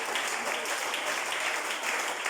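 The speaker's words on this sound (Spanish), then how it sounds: "Demos un aplauso al Rey de la Gloria." Dense, steady applause fills a church service following a sermon on baptism, many hands clapping together at a fairly distant, even level with no talk over it.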